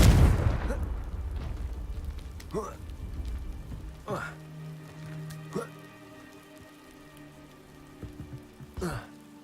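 Confringo fire-blast spells from Hogwarts Legacy burst out in a few separate, fairly quiet whooshing pops spread across the stretch, with a heavier rumble at the very start and a soft game backdrop between them.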